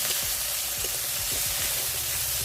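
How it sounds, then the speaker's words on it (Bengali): Ground spice paste fries in hot oil with tomato and curd, giving a steady, close sizzle with soft bubbling and light stirring, and no voices. "বাটা মশলাগুলোকে ভেজে নেব দেখো বাটা মশলাগুলো ভাজা হয়ে গেলে দিয়ে দিচ্ছি একটা টমেটোর টুকরো"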